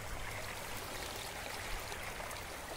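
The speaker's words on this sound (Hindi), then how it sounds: "बहती धाराओं को पानी को देखिए।" A flowing stream in the morning gives a steady, close rushing and gurgling wash that runs unbroken throughout.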